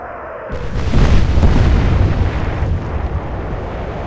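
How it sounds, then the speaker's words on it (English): Naval guns fire a broadside in the warship game Atlantic Fleet: a loud, booming blast erupts after half a second and rolls on as a long, rumbling roar that slowly fades. "So let's go ahead, fire our guns."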